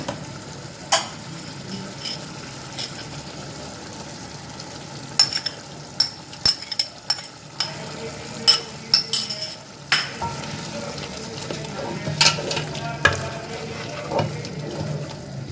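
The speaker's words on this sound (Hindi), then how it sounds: "हमारा चिकन हांडी का मसाला भून चुका है" Chicken handi masala sizzles and fries in a pot while being stirred, with scattered spoon scrapes and clinks growing busier in the second half, close and moderately loud.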